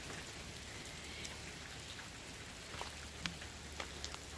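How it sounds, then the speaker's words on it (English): Steady rain falls outdoors under dark clouds on a wet August day, a soft continuous hiss with scattered distinct drop patters near the listener and no voices. "yeah, I'm out in the rain."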